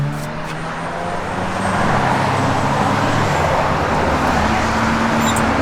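A 1966 Chevrolet Chevelle SS engine running, a loud steady broadband roar with a low rumbling drone that swells slightly after the first second and holds even through the rest.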